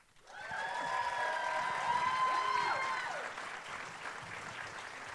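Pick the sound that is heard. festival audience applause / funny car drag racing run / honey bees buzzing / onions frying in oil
festival audience applause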